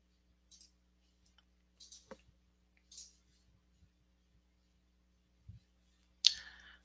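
Mouse clicks on a chart in an NMIS network-monitoring interface: a handful of soft, sparse clicks spread out and close up, with a sharper louder click at the end and no talking.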